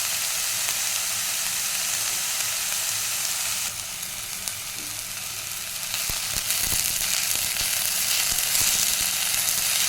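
Chopped onion and ivy gourd fry in a hot pan, giving a constant, dense sizzle that swells slightly louder toward the end, with occasional stirring scrapes and no voices.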